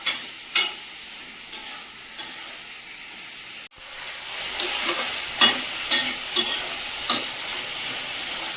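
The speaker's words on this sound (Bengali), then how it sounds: "চিকেনটা এরকমভাবে ভেজে ভেজে কষিয়ে দেবো" Chicken frying in a pan at home, a loud continuous sizzle with a series of sharp scraping stirs of a spatula, close up, briefly dipping before the frying resumes louder.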